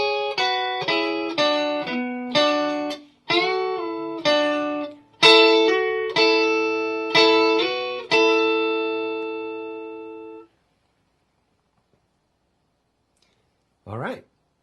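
A plucked guitar plays a phrase of paired notes with sliding pitch changes, a dozen or so rhythmic strokes, the last one ringing out before silence.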